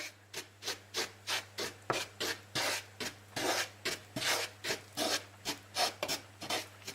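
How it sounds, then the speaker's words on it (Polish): A frying pan of oil and flour roux is stirred with steady, rhythmic rasping scrapes, about three strokes a second, close and continuous over a low hum. "Na patelnię wlewamy olej i mąkę. I musimy to teraz wszystko ładnie wymieszać."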